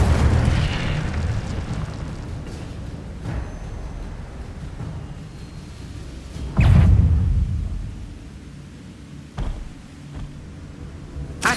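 Incendio fire spell cast in the Hogwarts Legacy video game, a rumbling burst with one loud whooshing flare midway and a sharper pop later, over continuous low game ambience.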